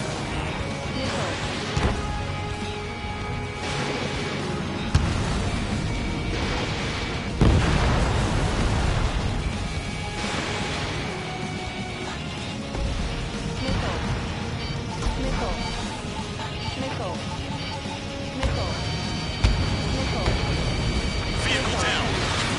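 Missile strikes and explosions destroying targets in the combat flight game Ace Combat 7, with repeated booms and crashes over a dense, continuous game soundtrack and cockpit radio voices.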